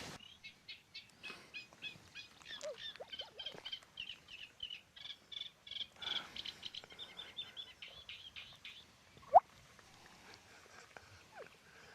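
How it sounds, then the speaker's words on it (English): A reed warbler sings a long, chattering song of rapid, scratchy repeated notes, fairly faint and steady, with a louder sharp call near the end. "here, I've got a reed warbler"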